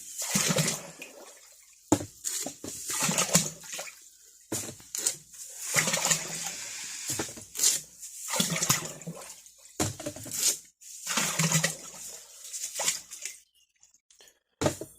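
Containers of salt, about five pounds in all, are tipped one after another into water for tanning a deer hide, giving repeated pouring rushes and splashes separated by quiet gaps.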